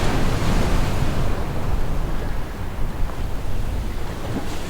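Surf washing onto a sandy beach at Pōka'ī Bay in Waiʻanae, a steady broadband wash with wind noise across the microphone, continuous and fairly loud with no voices.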